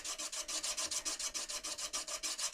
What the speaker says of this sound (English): Helps get rid of the cylindrical scratches created by the sandpaper